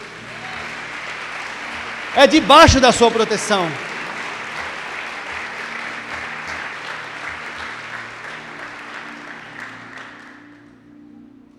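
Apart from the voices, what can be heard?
church congregation applauding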